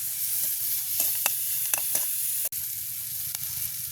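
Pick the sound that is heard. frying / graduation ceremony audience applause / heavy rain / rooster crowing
frying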